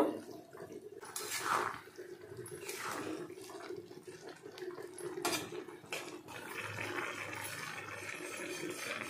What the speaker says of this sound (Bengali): এবার আমি সিদ্ধ করে রাখা শাকটাকে এর মধ্যে ঢেলে নেব। এবার খুন্তির মাধ্যমে একবার ভালো করে এটাকে নাড়িয়ে নেব।